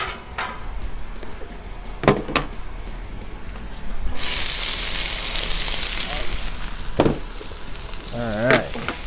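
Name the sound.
vegetables frying in oil on a Blackstone griddle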